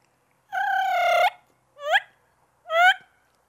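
A turkey mouth call imitating a turkey, played alone and close: one long wavering yelp followed by two short rising notes, the tone turning raspy.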